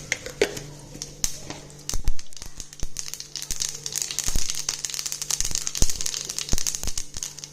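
Sharp irregular pops and crackles of mustard seeds in hot oil burst over a soft hiss, fairly close with no voices.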